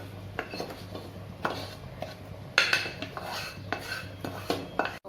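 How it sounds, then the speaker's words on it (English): Fried onion tarka goes into a pressure cooker of khichri made with rice, pulses and vegetables, bringing steady metallic clinks and scrapes of a spoon against the pot, with a few sharper clatters, close and fairly quiet. "So I'll be giving the tarka now"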